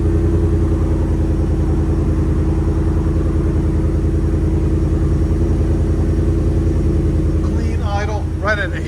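A Whipple-supercharged Ford F-150 with a 5.0L V8 and Flowmaster exhaust idles after startup, a loud, steady, throbbing low rumble close by, with people talking briefly near the end.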